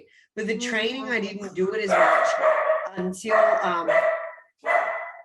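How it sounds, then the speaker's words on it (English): A dog barks indoors while a person talks steadily over it; the barks are partly masked by the close, continuous speech. "hang on a second, that's my dog."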